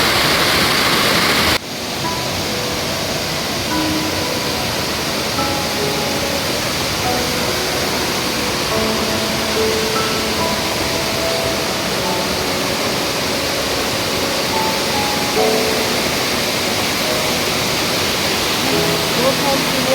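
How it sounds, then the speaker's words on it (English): A waterfall on an island, fed by water from the mountain, gives a loud, steady, close rush of falling water that fills the whole stretch. It starts with a brief jolt, and faint voices can be heard under it. "I just found this beautiful waterfalls on the island"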